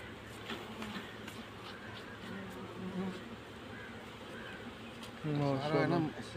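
Honeybees buzz around a wooden hive frame in a close, continuous drone, with a louder swell of buzzing toward the end.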